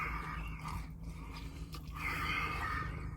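Close, wet chewing of a New York pizza slice, a steady run of soft mouth and bite noises filling the whole moment with no talking.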